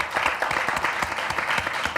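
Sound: audience applause

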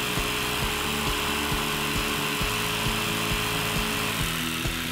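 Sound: drilling a hole in wood

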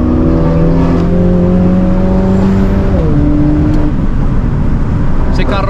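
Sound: loud car engine

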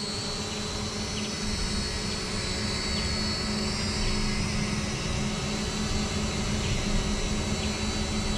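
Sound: drone flying and hovering

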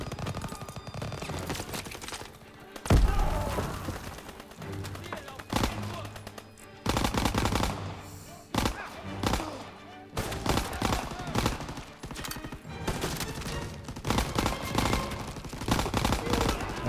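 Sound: enemy machine gun fire in Call of Duty WW2 video game

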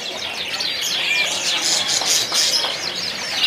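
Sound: canaries chirping at a bird kiosk

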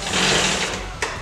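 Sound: YFZ 450 quad rear wheel spinning freely

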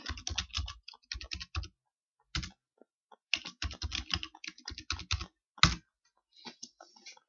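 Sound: typing a password on a computer keyboard

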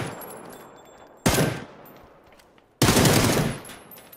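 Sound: Dragunov sniper rifle firing in a video game

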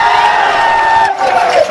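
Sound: audience applause and cheering

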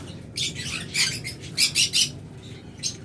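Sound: lovebirds chirping

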